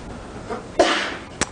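A single sharp sneeze bursts out in a lecture room, followed a moment later by a brief crisp click.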